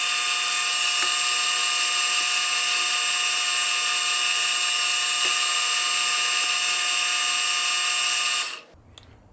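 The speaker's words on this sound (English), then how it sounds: "So let's go ahead and do just a spring pass now." A milling cutter takes a light spring pass on a workpiece, a loud steady high-pitched whine with tonal harmonics that runs unbroken for about eight seconds and then abruptly cuts off to quiet.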